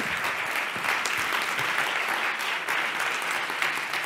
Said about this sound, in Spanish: pedimos un aplauso para ChatGPT